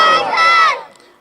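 Worshippers at an Islamic waz gathering in Bangladesh shout the takbir together, a single loud, massed cry of many voices that holds briefly and then fades away.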